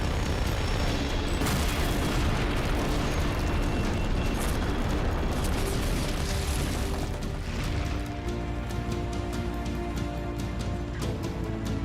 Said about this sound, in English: Shooting out the supports will result in the bridge destroying in different ways every time.